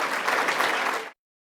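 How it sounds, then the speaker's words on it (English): An audience claps in a dense, even burst of applause that ends abruptly after about a second. "Let's give Superintendent Beck a real big round of applause."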